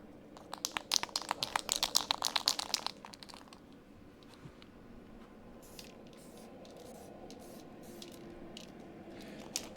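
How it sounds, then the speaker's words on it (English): Weld-through primer sprayed from an aerosol can onto car body panels during a Crew Cab Charger restoration, a close, hissing burst of short bursts lasting about three seconds before dropping to quiet shop ambience with faint clicks. "give this a quick coat of weld through primer before we weld to the top of it"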